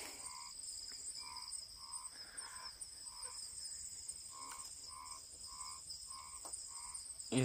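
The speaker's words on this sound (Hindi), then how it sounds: "एक वो मेंढकों की और जानवरों की आवाज़ें आ रही है।" Frogs croak at night beside a remote road, giving short evenly spaced calls of around a dozen croaks. Faint, steady insect trilling runs underneath, and the scene is otherwise quiet.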